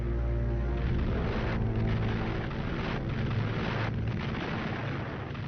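Heavy, rumbling explosions from wartime bombing and shelling of the English coast at Dover roll on continuously, loud and dense with deep booms, and no voices over them.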